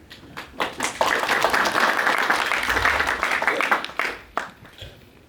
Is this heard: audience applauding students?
yes